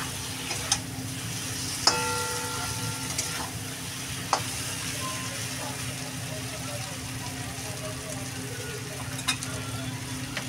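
Prawns and spices being stir-fried sizzle softly and steadily, with occasional scrapes and taps of a spatula in the pan.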